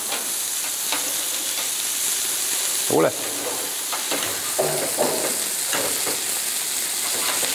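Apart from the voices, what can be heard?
food frying in a pan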